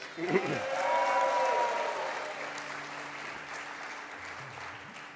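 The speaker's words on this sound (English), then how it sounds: "A round of applause for them, please." Wedding guests at a Hindu fire ceremony applauding the couple, a burst of clapping that swells early and then fades while sustained musical tones carry on underneath.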